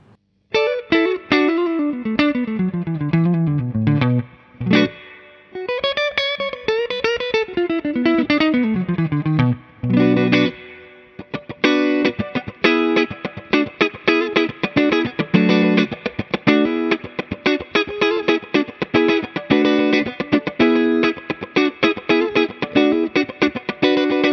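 Electric guitar on a clean tone, a Suhr Classic T with Telecaster pickups, playing alone, starting with sliding melodic runs, then strummed chords and choppy rhythmic picking, fairly loud with a bright, slightly effected tone.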